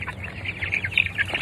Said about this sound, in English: These are our new goslings that we got.